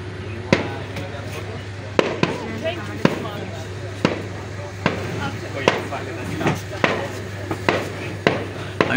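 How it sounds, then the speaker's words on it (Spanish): Fireworks bursting over Santorini, a series of sharp, fairly distant bangs roughly every second, with a steady low hum underneath and voices now and then. "¡Mirad fuegos artificiales!"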